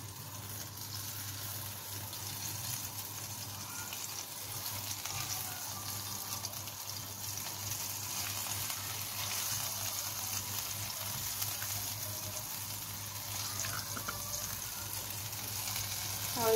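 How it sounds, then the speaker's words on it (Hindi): Potato pakoras fry in hot oil in a kadhai with a dense, steady crackling sizzle, close and continuous throughout. "फटाफट ये फ्राई होने शुरू हो, क्योंकि आलू के पकौड़े थोड़ा सा टाइम लेते हैं बनने में।"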